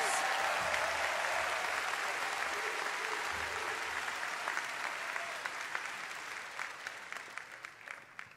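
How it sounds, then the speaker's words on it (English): Sustained applause for the graduating class of 2023 at the Meharry Medical College commencement, a dense wash of clapping that holds steady before slowly thinning and fading, with a voice briefly audible beneath. "Let's give them another round of applause."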